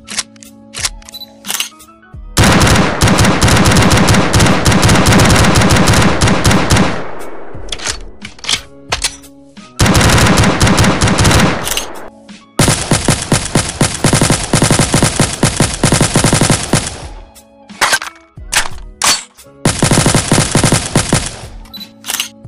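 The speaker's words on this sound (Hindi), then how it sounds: "देखो ये फर्स्ट शॉट गन है" Gunfire from a 3D gun mod in Minecraft PE comes in loud, rapid automatic bursts, each lasting several seconds, split by short gaps and a few clicks and single shots.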